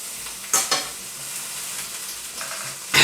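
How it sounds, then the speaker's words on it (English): A pot boils over on a stove: soft hissing and bubbling as liquid spills onto the hot surface, with a few sharp sizzling bursts that flare up and fade. "Something is boiling over."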